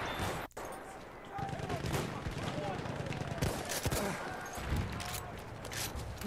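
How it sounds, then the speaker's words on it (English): Mortar shells bursting across a Battlefield 1 battlefield amid ongoing gunfire, a steady rumble of thuds and cracks at moderate distance, with a voice talking over the combat. "And there come the mortars."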